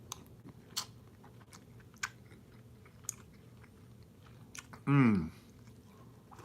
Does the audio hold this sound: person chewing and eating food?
yes